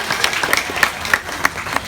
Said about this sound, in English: Let's give her a big round of applause, ladies and gentlemen.